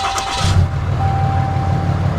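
A RAM 3500 pickup's Cummins diesel engine with aftermarket exhaust cranks briefly and catches, then settles into a steady, loud idle with a low rumble and a faint whine.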